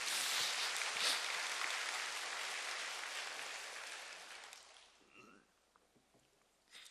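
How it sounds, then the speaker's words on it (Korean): A church congregation at a special early-morning prayer service applauds in a dense, steady wash of clapping that fades out over several seconds, leaving a quiet room with faint sounds. "우리 사랑의 박수를 좀 한번 보내주세요"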